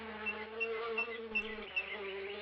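A fly buzzes steadily in King's Quest III Redux while the player is transformed into a fly, a continuous close insect drone with slight wavering and no talk.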